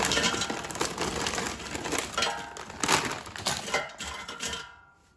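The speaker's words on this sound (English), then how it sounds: "I'm going to put frozen fries in the basket" Frozen waffle fries tumble into an air fryer basket with dense rattling, clattering crunches in bursts, close and fairly loud, tapering off into silence at the end.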